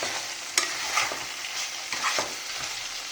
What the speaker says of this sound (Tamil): இப்போ இதை லைட்டாக கிளறிடலாம்